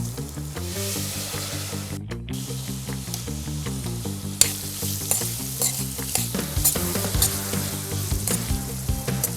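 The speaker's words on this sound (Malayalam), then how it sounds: "ചെമ്മീനും വറുക്കാം." Prawns fry in oil in a pan for a biryani, with a steady crackling sizzle and repeated stirring scrapes, close and continuous with no talking.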